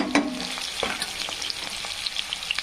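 Chopped curry leaves sizzle and crackle in hot oil for an usal dish, a steady close frying hiss with a few sharp pops near the start.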